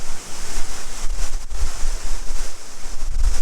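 Steady, loud rush of falling water from Kurudere waterfall in Sakarya, Turkey, a dense roar that fills the whole clip without pause.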